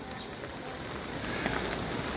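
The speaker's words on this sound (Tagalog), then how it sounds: "Hindi pa tapos ang ulan." Steady rain falls outdoors during a morning flood in a residential village, a continuous close hiss of drops with no talk.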